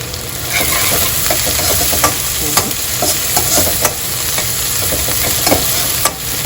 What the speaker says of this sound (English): Fry it till golden brown.